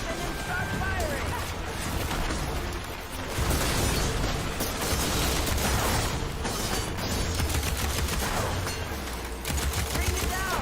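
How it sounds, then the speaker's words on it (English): Weapons fire in rapid bursts during a Horizon Forbidden West combat sequence, dense crackling volleys and booms layered over each other, with game voices and a player talking throughout. "Pick up that weapon and start firing!"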